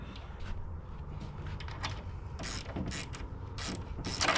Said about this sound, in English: Maybe I'll grab a wrench.